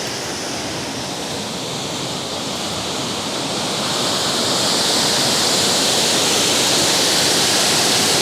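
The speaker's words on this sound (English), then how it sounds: "the water is getting ridiculously loud now" Loud, steady rushing water in Wrocław fills the whole clip, a dense roar that swells slightly louder toward the end, with no voices.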